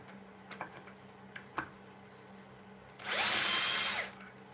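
A power drill with its bit being moved around to find screws gives a few light ticks and taps, then one loud, close whirring burst of about a second.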